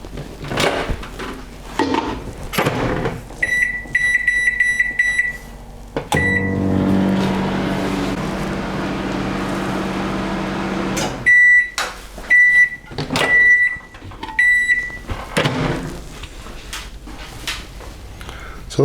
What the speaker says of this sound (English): we put the microwave oven on full power and we turn it on for 1 minute and 40 seconds